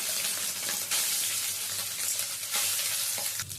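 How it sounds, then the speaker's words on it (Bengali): Boiled soya chunks fry in hot oil with whole garam masala and a bay leaf, giving a steady loud sizzle with bursts of stirring and scraping throughout. "এবার সয়াবিনটা ভেজে নেব"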